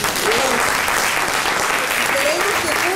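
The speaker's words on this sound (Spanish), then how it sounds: "Así que les pido un fuerte aplauso para todas." Steady, dense applause from an audience honoring a group of women, a continuous wash of clapping with faint voices underneath, even in loudness throughout.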